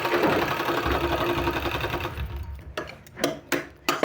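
A sewing machine runs steadily stitching a 1.5-inch two-colour fabric strip, a loud close whirring chatter that then breaks into a few short stop-start bursts.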